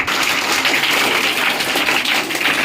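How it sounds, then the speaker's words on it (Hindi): Loud, dense applause from a large audience at a Teacher's Day speech, a continuous wash of many hands clapping that fills the whole stretch at steady volume with no voices over it. "एक बार जोरदार तालियां"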